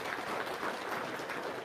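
Steady clapping from an audience, a dense continuous patter that holds at an even level throughout, with no other sounds standing out.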